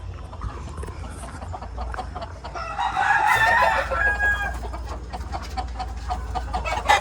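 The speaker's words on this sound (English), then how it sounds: "Those are roosters" Fighting cocks crow and cluck at an outdoor yard in Riverton City, Jamaica, with one long crow rising over steady background noise and scattered clucks.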